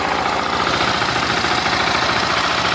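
A 2016/2017 KTM 690 Duke single-cylinder motorcycle idles with its stock muffler, giving a steady, close, even thumping throb with no talk over it.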